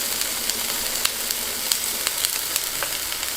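Eggplant rings frying in oil in a pan, a steady bright sizzle with scattered small pops and crackles, close and continuous.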